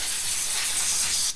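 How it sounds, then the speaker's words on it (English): A spray bottle mists cleaner onto a rag in one long, steady, close hiss that cuts off abruptly at the end. "grab the spray"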